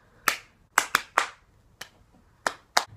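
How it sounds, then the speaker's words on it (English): Sharp hand claps ring out one at a time in an uneven sequence, seven crisp close claps in a quiet room with short gaps between them. "All you have to do is clap."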